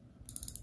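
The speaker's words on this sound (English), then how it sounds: "The bezel on this one rotates." The rotating bezel of a Vostok-Europe N1 Rocket watch clicks through a short run of about five tiny, quiet ratcheting ticks in quick succession.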